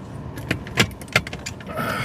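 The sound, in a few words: keys jangling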